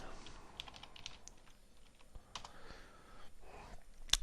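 Steady typing on a computer keyboard with a worn, troublesome T key, rapid irregular key clicks running throughout at close range, fairly quiet, with no voices.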